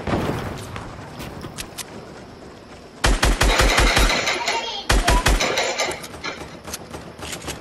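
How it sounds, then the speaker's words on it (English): A minigun in a battle royale video game fires two rapid, loud bursts of rattling gunfire, each about two seconds long, over a background of game ambience. "Oh, I got a minigun."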